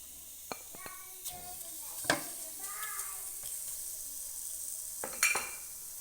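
Chicken pieces hit a hot, oil-free pan with a little salt, giving a soft steady sizzle and frying hiss broken by a few sharp clinks of utensils against the pan.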